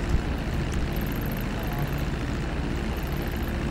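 A cargo plane flies in GTA 5 Online with a steady, fairly quiet engine drone that stays even and unbroken throughout.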